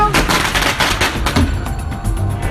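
Firecrackers crackle and pop in a rapid, dense string at a Nuo masked dance ritual in a Jiangxi village, loud and close, with sharp bursts fading toward the end.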